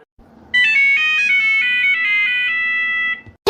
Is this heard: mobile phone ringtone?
yes